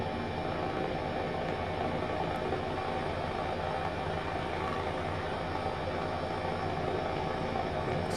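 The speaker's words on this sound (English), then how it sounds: "my helicopter sound was rather loud" An H135 helicopter engine in Microsoft Flight Simulator 2020 during a flight over London, a loud, steady turbine whine and rotor drone with no pauses and no talking.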